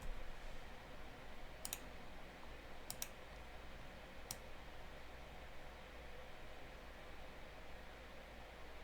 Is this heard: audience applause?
no